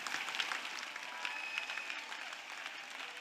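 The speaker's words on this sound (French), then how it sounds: "You are trying to clap." Congregation clapping at a church service: a soft, distant patter of many hands clapping, steady and even, low in level throughout.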